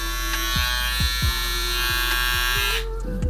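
Electric hair clipper fitted with a deep tooth cutter blade runs close and loud, a steady high buzz with a low hum that dips and shifts briefly near the end, and no talking.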